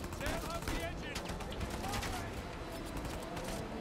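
Dense gunfire in the video game Uncharted 4, rapid bursts and shots layered over a game soundtrack, with a player talking over the action.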